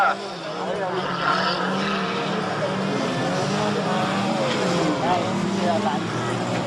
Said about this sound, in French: ça roule pour l'instant et toujours le numéro 18, Christophe Duparc